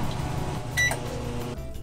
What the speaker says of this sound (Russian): Просто подогреем в микроволновку.